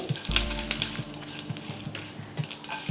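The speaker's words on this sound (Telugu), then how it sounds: "హాఫ్ టీ స్పూన్ ఆవాలు హాఫ్ టీ స్పూన్ జీలకర్ర వేసుకోవాలి రెండు మూడు ఎండుమిర్చి వేసుకోవాలి" Mustard seeds, cumin and a few dried red chillies frying in hot oil for drumstick chutney, crackling and popping in quick, irregular bursts over a close, continuous sizzle.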